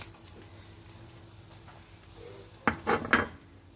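Tomatoes tipped into a pan of frying potatoes for an aloo anday bhujia, giving a short cluster of three loud, close clattering hits over a quiet background hum.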